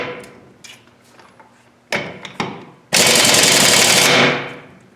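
An air-powered impact tool on a half-inch hose, fed by a compressor at 175 psi, tightens a fastener on a DT466 beverage truck. A few close knocks come first, then one loud, continuous machine-gun-like rattle lasts about a second, with no talk.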